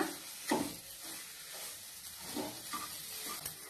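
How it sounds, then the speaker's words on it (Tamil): Sweet potato halwa with sugar stirred in a pan, a soft continuous sizzle with scraping strokes of the spoon recurring every second or so, quiet and close. "இது மாதிரி நல்லா கிண்டிக்கிட்டே இருங்க"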